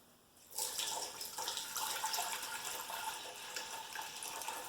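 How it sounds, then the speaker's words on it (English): Kombucha being poured through a fine mesh screen, a continuous splashing liquid stream that starts abruptly and runs steadily, fairly quiet and close. "I have a fine mesh screen. And I've got two. I'm going to use one as I pour it out."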